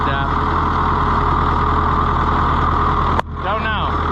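An Oliver 1365 tractor engine runs at a steady, loud idle close by, a continuous low rumble that ends in a sharp knock, followed by a moment of quieter running with voice-like sound over it.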